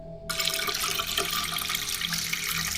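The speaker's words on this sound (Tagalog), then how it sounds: "Ngunit tumutulo ang tubig. Unti-unting bumibilis ang agos." Water running steadily from a kitchen tap, a continuous close hiss and splash that starts abruptly and holds at an even level with no voices.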